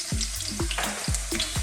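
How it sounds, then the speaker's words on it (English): Sliced red onions drop into hot sunflower oil and fry with a steady, loud sizzle, with several sharp crackling bursts as pieces hit the pan; no one speaks. "I'm going to start by dropping in some sliced onions."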